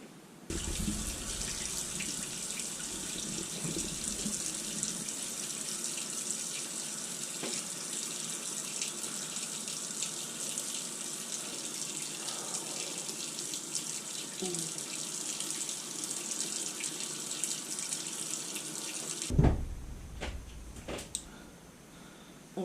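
Water from a tap runs steadily for about nineteen seconds as a face mask is rinsed off, a continuous close splashing hiss that stops abruptly, followed by a few faint drips and small handling sounds.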